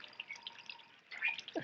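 Thin water from a weak-flowing well, 32 feet to the water strata in a rocky valley, trickles and drips faintly, with a few brief splashy drops close by in a quiet setting.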